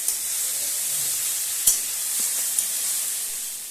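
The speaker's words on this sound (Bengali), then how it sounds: "এবারে মশলা কষার সময় আমি 2 থেকে 3 বার সরষের তেল দিয়ে কষিয়ে নেব" Bengali spice paste frying in mustard oil for a small fish curry, giving a bright, even hiss of sizzling oil with a few faint clicks of stirring.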